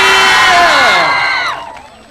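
A concert crowd at a Cambodian Christmas show cheers loudly for a singer, with sustained high screams and whoops swelling together, then fading toward the end.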